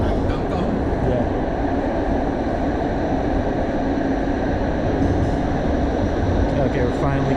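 A train on Toronto's Eglinton Crosstown transit line rumbles steadily, a continuous loud drone and hum heard from on or near the line, with people speaking faintly under it.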